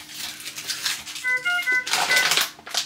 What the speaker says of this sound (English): That's just the alarm to tell me it's on.